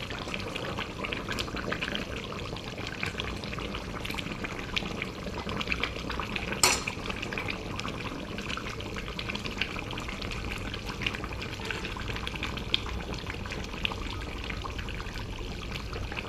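Fish pieces are laid into boiling eggplant curry broth, making soft liquid bubbling and gentle splashes with a few clinks of a utensil against the pot, close and quiet, with no talking.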